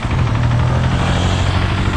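A 2026 KTM 690 Enduro R single-cylinder engine thrums low and uneven at about 12 km/h with the throttle closed. The close, pulsing rumble lugs steadily throughout.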